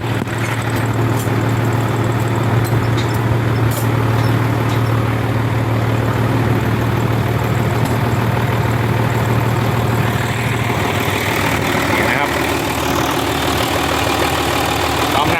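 A used six-wheel diesel truck engine idles with a steady low rumble, then is revved briefly, rising in pitch and roughness near the end.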